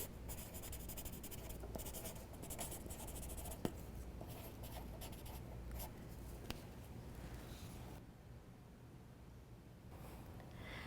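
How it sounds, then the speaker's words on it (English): A pencil signing a horse head and neck portrait drawing, giving a steady soft scratching and scribbling across paper that runs throughout, close up and fairly quiet, with no talk. "All that's left to do now is sign your work."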